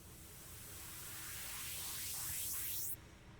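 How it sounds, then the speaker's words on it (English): Reversed white noise swells steadily louder over a few seconds, then cuts off abruptly at its peak, leaving a quieter hiss. "We have the same white noise but reversed."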